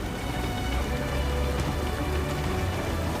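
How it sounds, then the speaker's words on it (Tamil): A mountain stream in the Sierra Nevada del Cocuy rushes steadily, filling the air with a loud, unbroken hiss of flowing water with no speech. "இங்க நாங்க ஒரு நீரோட்டத்தை கண்டுபிடிச்சதால அதை பின்தொடர வேண்டியதான் பாக்கி."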